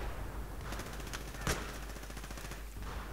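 Rapid bursts of Battlefield 3 multiplayer gunfire crackle over a constant noisy background, with one sharper shot standing out midway.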